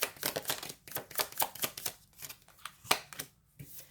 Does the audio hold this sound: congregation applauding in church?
no